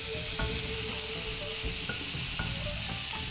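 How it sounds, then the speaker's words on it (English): Beef slices for Japanese yakiniku laid on a hot griddle give a steady, loud hiss and sizzle close up, with a few soft taps of placing meat. "place the beef slices onto the griddle."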